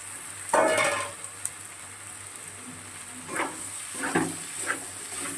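Boiled soybean chunks tipped into a hot frying pan, giving a burst of sizzling and frying, followed by several soft scrapes and stirs against the pan, no talking.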